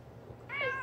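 A pet cat meows once, a short rising-falling call close to the microphone after a quiet moment of faint room noise.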